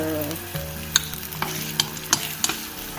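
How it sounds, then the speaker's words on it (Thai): Shrimp heads fry in a pan for Thai fried rice, a close, crackling sizzle punctuated by repeated spatula clicks and scrapes at an irregular rhythm, with no voices. "I will fry the head of the shrimp"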